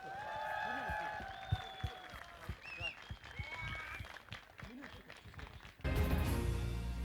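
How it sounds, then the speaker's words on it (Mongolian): An audience applauds at a live performance event with a rapid scatter of handclaps, joined by voices and stray tones, that swells to a louder, denser burst near the end. "За нийцгэсэн сайхан алга ташлт."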